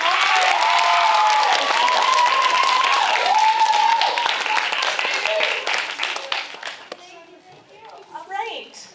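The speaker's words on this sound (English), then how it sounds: "Let's give a final round of applause." A theater audience at a young playwrights' festival applauds with dense sustained clapping and some cheering, fading after several seconds as a voice begins speaking.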